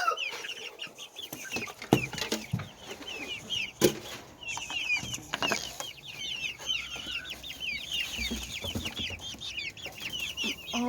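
Backyard chickens, including barred rocks, a silkie mix and a golden laced hen, cluck and chatter continuously nearby, with overlapping calls and occasional wing flaps, no speech.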